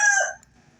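A rooster crows loudly and close during a cockfight, one short strained call lasting under half a second before cutting off to quiet background.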